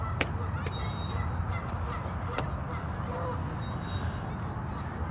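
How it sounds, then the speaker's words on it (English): Ducks on a park pond give a few brief honking calls over steady outdoor wash and murmur, heard at a moderate distance. "Here's the pond of ducks."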